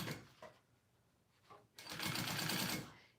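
A sewing machine runs a stitching burst along a wallet flap seam at a quarter-inch allowance, preceded by short mechanical taps and brief whirs, close and fairly loud.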